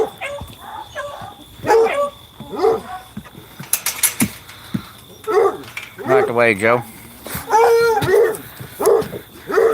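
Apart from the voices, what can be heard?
dog barking and howling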